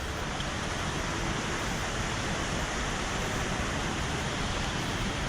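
A waterfall along a Norwegian scenic mountain route pours in a steady, dense roar, loud and unbroken from start to finish with no voices over it.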